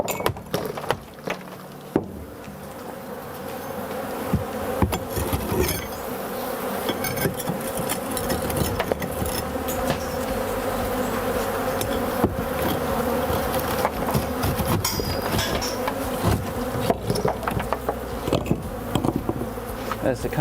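Dense, continuous buzzing of many honey bees swarming close by around a bee vacuum, with scattered clicks and knocks throughout and no voices.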